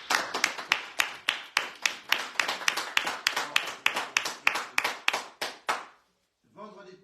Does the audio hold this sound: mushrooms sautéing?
no